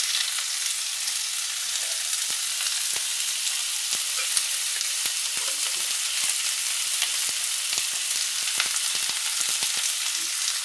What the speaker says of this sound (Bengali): গোটা গোলমরিচ